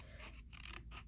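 Small scissors snip around the outline of a paper image for cardmaking, giving soft repeated rasping cuts close by, quiet and alone with no talk.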